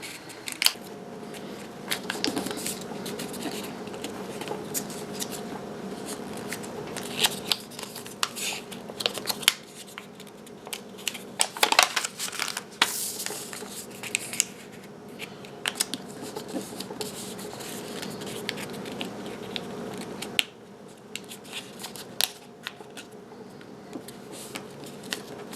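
Sheets of paper being quickly folded and creased one after another, giving a continuous crinkling and rustling with sharper snaps scattered through, close and fairly loud without speech.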